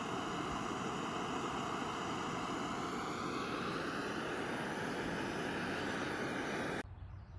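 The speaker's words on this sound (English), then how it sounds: "There's an airplane flying around" Airplane droning overhead on a sunny morning above a campsite near Minnesota's Big Bog; a steady, broad roar holds at constant loudness for about seven seconds, then cuts off abruptly.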